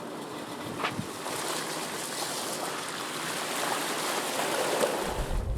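A vehicle pushes through deep floodwater at Devils Lake, giving a steady, loud rush of churning and splashing water that swells slightly toward the end.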